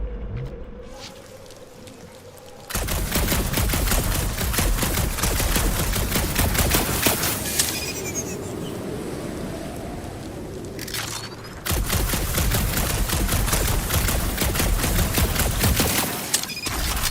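Rapid gunfire from shooting in Marvel's Guardians of the Galaxy, dense bursts of shots filling most of the clip with a brief lull in the middle, loud and close, no talk.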